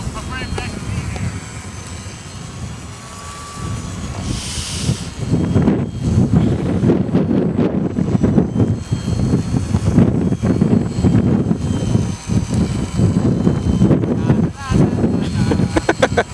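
An RC Cessna 182 model airplane flies in heavy wind, its engine droning steadily throughout, with wind buffeting the microphone and people talking nearby.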